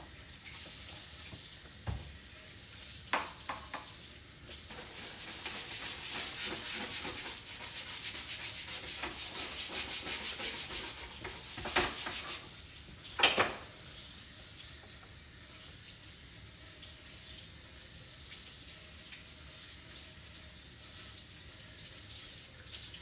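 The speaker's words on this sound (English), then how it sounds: "I'll wash this cutting board off real quick." Tap water runs steadily into a kitchen sink while a cutting board is rinsed and scrubbed, a continuous hiss broken by a few knocks and rubbing sounds, with no talking.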